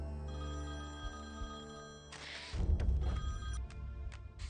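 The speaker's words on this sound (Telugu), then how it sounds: "ఫోన్ వైషు." A telephone rings in a Telugu film scene from Padi Padi Leche Manasu. A steady tonal ring runs through the first couple of seconds, then gives way to louder, busier rustling and noise.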